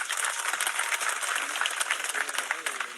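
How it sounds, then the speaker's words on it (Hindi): An audience at an employees' pension gathering claps loudly, a dense, steady patter of many hands filling the entire moment. "एक बार जोरदार ताली बजाएं"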